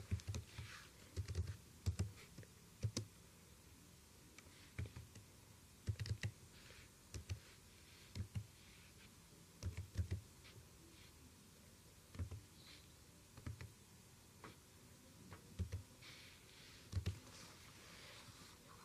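Computer keyboard typing while entering a captcha on a faucet earning website, with irregular bursts of keystrokes separated by short pauses, close and fairly quiet over low background hiss, with no talking.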